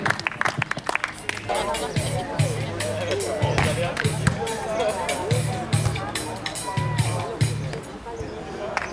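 Spectators at a beach volleyball court inauguration clap in short bursts and a small crowd murmurs nearby, while someone talks over the scattered applause throughout.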